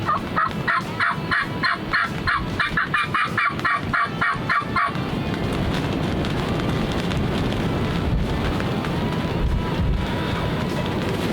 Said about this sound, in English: There's a gobbler to the left.